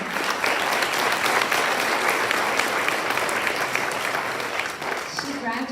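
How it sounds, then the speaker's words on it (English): An audience at a high school senior awards ceremony applauds a valedictorian, a steady, dense burst of clapping that fills the room for several seconds before beginning to taper off at the end. "So give her a round of applause, please."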